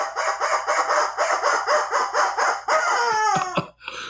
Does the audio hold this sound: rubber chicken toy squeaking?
yes